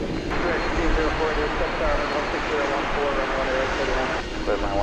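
An MD-11 jet airliner pushing back at Dallas Fort Worth airport gives off a steady whining engine hum, moderately loud and continuous, with faint voices underneath.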